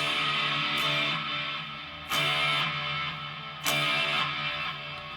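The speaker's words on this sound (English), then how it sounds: "let's hear some reverb" Electric guitar through a HOEREV multi-effects pedal with reverb on, sustained chords ringing and washing out, with a few sharp restrikes that swell and fade in a lingering tail, no voices.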